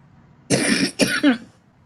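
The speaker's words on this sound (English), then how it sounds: "I'm trying to clear my throat" A person clears their throat with two harsh, raspy bursts, the second ending in a brief voiced grunt, close by in a quiet room.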